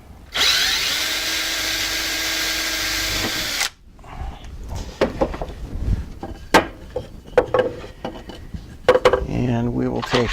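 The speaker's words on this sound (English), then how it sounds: "I'm going to go ahead and drill a pilot hole" A power drill whines steadily for a few seconds drilling a pilot hole into wood, then stops, followed by scattered clatters, taps and handling noises of tools and parts.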